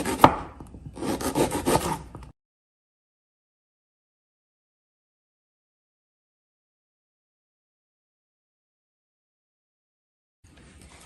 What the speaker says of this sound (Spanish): Y las demás las vamos a cortar en medias lunas.